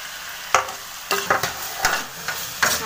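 Tomatoes go into a hot frying pan for a vegetable kurma and sizzle as they are stirred, with several sharp scraping strokes over a light hiss.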